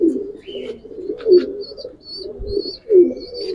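A domestic pigeon, a Giribaz pankhi, coos in soft repeated rolling phrases close by, with faint chirps from other birds in the background.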